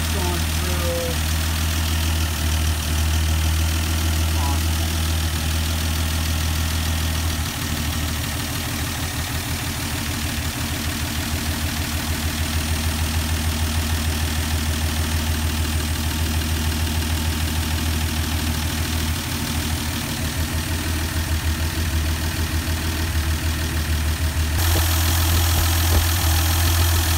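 A 1971 Dodge Demon, a garage find, idles with a steady low engine rumble and a mechanical knock, close and continuous, while someone talks over it; the tone shifts slightly near the end.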